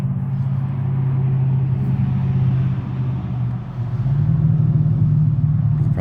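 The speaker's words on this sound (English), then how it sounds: "You probably hear the cars going down the road." Cars go by on a busy main road, a close continuous low rumble of traffic that swells as one vehicle passes near the end, with no talk over it.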